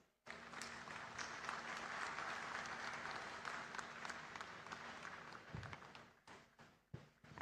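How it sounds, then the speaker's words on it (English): An audience at a ceremony in Kolkata breaks into a warm round of applause that starts abruptly and holds steady. It fades into scattered claps and a few thuds at the end. "round of applause, please."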